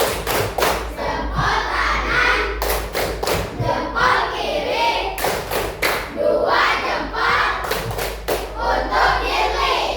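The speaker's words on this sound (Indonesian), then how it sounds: "kita kasih tepuk jempol" A group of children in a classroom claps and slaps in repeated bursts, dull thumping hits mixed with children's voices and chatter throughout.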